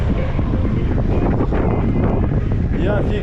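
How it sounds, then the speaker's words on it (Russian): Strong wind roars steadily into the microphone near the coast of Crimea, a dense, constant buffeting rush that fills the whole clip, with faint voices buried underneath. "Капец ветер."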